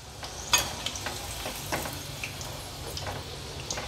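Crispy mutter paneer rolls fry in oil over a medium gas flame and get turned in the pan: a soft, steady sizzle broken by light clicks and scrapes as they are flipped.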